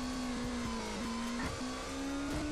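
A motorcycle engine revs steadily in the Cidade do Grau video game, a sustained mid-pitched drone that holds and shifts slightly in pitch, loud and continuous throughout with no talk.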